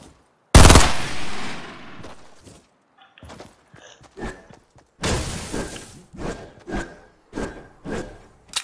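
Fortnite gunfire: a loud close blast with a long crackling tail opens the sequence, then gaps with soft thuds, then a second heavy burst and a run of sharp repeated shots.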